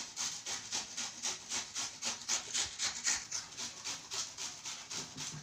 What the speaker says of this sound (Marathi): आता हे मस्त आता सोबत कापून घेतणार आहे